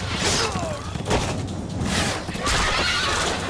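A horse in the animated film Justice League Dark gives a loud, shrill whinny, set among dark swooshing effects and faint hoof clatter, with no talking.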